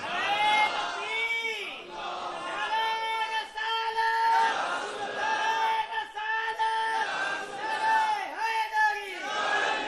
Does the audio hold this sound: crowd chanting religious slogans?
yes